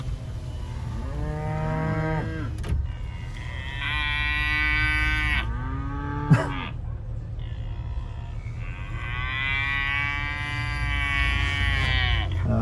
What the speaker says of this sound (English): Our cows are happy to see us.